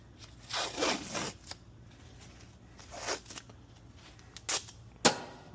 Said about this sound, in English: I should probably put some tape on here.